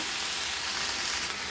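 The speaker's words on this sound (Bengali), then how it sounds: "সবজিটা ভাজা হয়ে গেছে" Vegetables sizzle steadily in a hot pan for a homemade mixed-vegetable ghyat dish, a close, continuous frying hiss with no talking.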